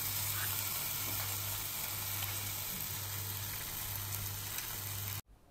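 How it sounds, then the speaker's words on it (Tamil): Grated coconut frying in ghee for jackfruit ada payasam, a continuous loud, hissing sizzle close by with a steady low hum beneath, ending abruptly near the end. "ஸ்பூன் நெய் விட்டுட்டு நம்ம தேங்காயை போட்டு அதை நல்லா வதக்கிக்கலாம்"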